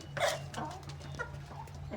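Backyard chickens cluck as they peck at feed mixed with ground herbs and a little salt. Several short, bright clucks sound close by over a steady low hum, with no talking.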